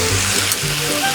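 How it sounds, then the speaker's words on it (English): Onions, celery and mild green chilies sautéing together in a pan for cornbread dressing, a steady close sizzle with faint stirring, no talk. "we're going to saute all of this together until we get all the newly added ingredients to the same temperature as the onions and the celery"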